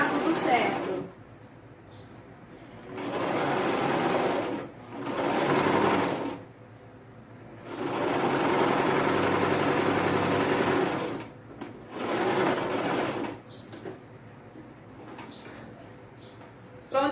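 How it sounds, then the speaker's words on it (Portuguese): Sewing machine stitching fabric for a seamstress doll, running in several separate bursts of steady whirring with quiet gaps between, while a person talks in the pauses. "vai devagarinho na máquina, levantando o pezinho com a agulha baixada no tecido e dá tudo certo."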